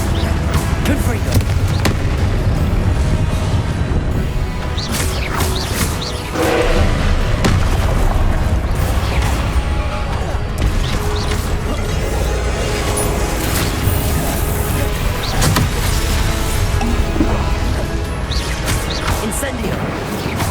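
Repeated booming spell blasts of Confringo in the wizarding game Hogwarts Legacy, loud crashing impacts scattered densely through a busy combat soundscape.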